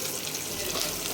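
Water pours in a steady, close gushing stream onto rice and lentils for kuthiraivali pongal, a brief, bright rush of liquid with no voices.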